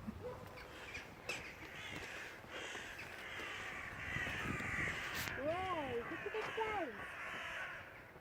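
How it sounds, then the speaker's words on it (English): Crows cawing repeatedly outdoors in Morpeth, Northumberland, a run of harsh calls at moderate distance, with people talking over them. "I don't think the crows are very happy with us being here"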